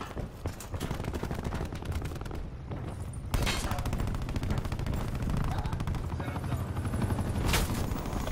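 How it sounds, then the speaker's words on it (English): Gunfire and an attack helicopter in the Black Ops 4 beta video game: sustained loud bursts of automatic fire and rotor noise with a sharp jump in intensity partway through, under faint game radio chatter. "Attack chopper available for tasking."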